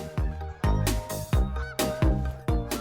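A goose honks repeatedly in the hunting game Call of the Wild, loud, close, rhythmic calls about every half second, clean with no talking over them.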